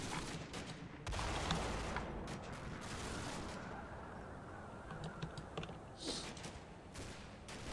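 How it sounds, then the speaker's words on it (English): Gunfire in a video game battle with a 60mm mortar and a machine gun: rapid cracking bursts and scattered sharp reports, fairly loud at first and then thinner, with no voices. "That MG fire obviously is a little bit off."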